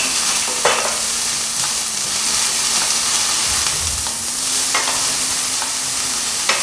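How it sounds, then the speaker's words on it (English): White onion braising in olive oil in a pan for an Algerian kofta curry, a loud continuous close sizzle with steady hiss and occasional stirring scrapes. "I'm going to add in a little bit of olive oil, and I'm going to add in some white onion and braise that down."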